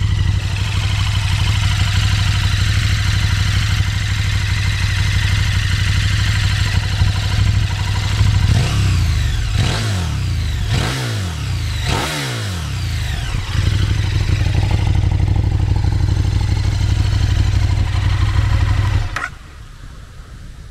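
A KTM 1290 Super Duke motorcycle on its stock exhaust idles loudly, then blips through several sharp revs in quick succession before settling back to idle and cutting off near the end.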